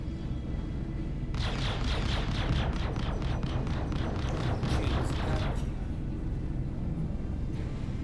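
Rapid bursts of ship weapon fire in the space game Star Citizen, a dense rattling volley for about four seconds over a low engine rumble, then fading back to the hum.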